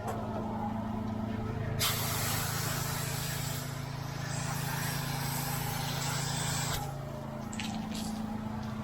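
A sprayer puts a light coat of house wash solution onto a roof line, giving a loud, steady hiss that lasts about five seconds over a low, constant mechanical hum before cutting off.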